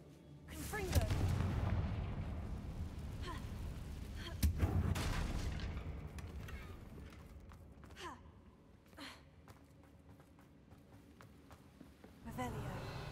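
Confringo fire spell blasts in Hogwarts Legacy: two booming explosions with rolling rumble and crackle, each decaying over a couple of seconds, followed by quieter game effects and a voice or grunts.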